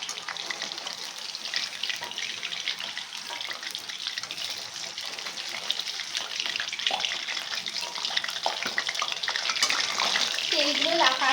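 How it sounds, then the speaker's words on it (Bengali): Butterfly chicken frying in spattering oil, a steady bright crackle and hiss that holds throughout and grows slightly louder toward the end, with no voices over it. "তেলগুলো লাফাচ্ছে"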